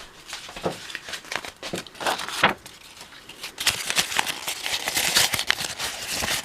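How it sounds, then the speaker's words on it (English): Dyed parchment paper being crumpled by hand, giving irregular crinkling and crackling bursts that grow denser and louder toward the end, close to the microphone. "I'm going to crumple this one up and see how it turns out."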